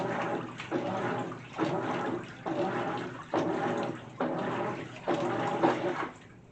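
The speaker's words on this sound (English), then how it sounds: "the clothes kind of soaked in the water as the machine is turning them over" A GE top-load washer on its normal cycle sloshes soaked clothes through the wash water in repeated surges, each churn lasting about a second with brief pauses between, fairly close and steady.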